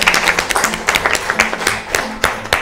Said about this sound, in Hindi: सो इनके लिए जोरदार तालियां।